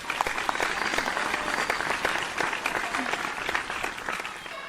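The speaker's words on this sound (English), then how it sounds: "please give a big round of applause for our other performers who put on a good fight" An audience applauds performers as they leave the stage at a vocal competition show, a steady wash of clapping that runs the whole time without pause.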